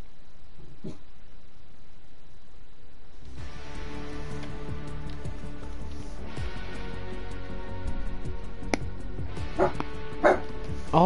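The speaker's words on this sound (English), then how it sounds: "Shut up, dog." A dog barks several times in a room during a Fortnite Christmas live stream, with sharp yips toward the end over steady game audio and background noise.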